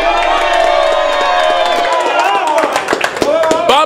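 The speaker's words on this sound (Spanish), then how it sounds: "¡Aplausos para Fabián!" Crowd at a pica pollo eating contest cheering loudly and clapping, with shouts and whoops rising over steady crowd noise and an announcer's voice.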